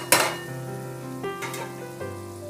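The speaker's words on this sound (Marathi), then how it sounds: "आता आपण त्याच्यामध्ये मेथी घालायची आहे." Chopped fenugreek leaves drop into a pan of frying potatoes with a sharp initial sizzle, followed by steady crackling and a few scraping stirs, close and clear.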